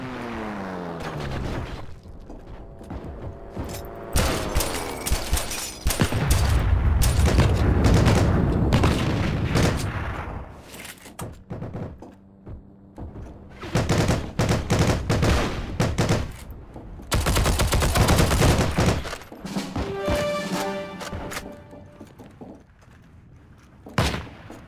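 Heavy gunfire in Heroes & Generals, with repeated loud volleys, booming blasts and bursts of machine-gun fire coming in waves, and an aircraft droning through parts of the scene.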